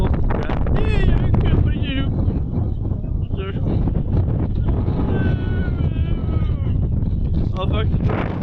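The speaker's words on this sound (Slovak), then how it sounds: "Trošku to začalo fúkať." Outdoors, wind blows hard against the microphone in a steady low roar, under continuous talk between men.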